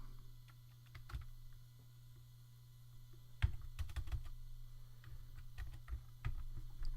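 Computer keyboard typing code during a Sprite Kit game-programming session, with irregular runs of close, crisp key clicks over a steady low hum and no talking.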